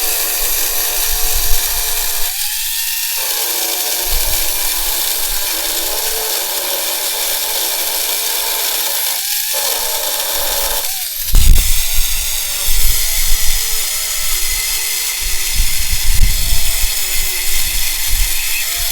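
A power tool cuts a metal bar out of a Ford Escort RS Turbo, a loud, close whining drone that dips and restarts several times before heavier, rougher grinding takes over.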